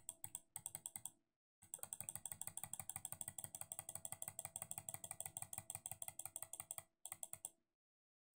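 Rapid computer clicking while editing bytes in a sprite editor, a dense run of crisp, close clicks in quick bursts with short pauses between groups, loud and alone.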